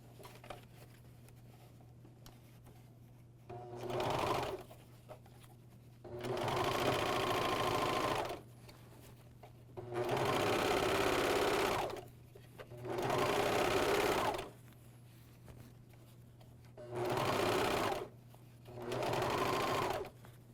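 AirThread 2000D Professional serger sewing a bathrobe sleeve, running in six short bursts of fast whirring, each a couple of seconds long, separated by quiet gaps, close and steady.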